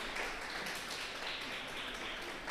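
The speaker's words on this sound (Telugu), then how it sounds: "ఒకసారి క్లాప్స్ కొట్టండి" An audience claps together at a church thanksgiving gathering, a dense, even patter of many hands that runs steadily throughout.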